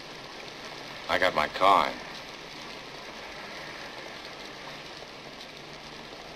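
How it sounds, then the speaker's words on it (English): Heavy rain pours down in a steady, even hiss that fills the whole stretch, while someone speaks briefly near the start. "It's raining pretty hard."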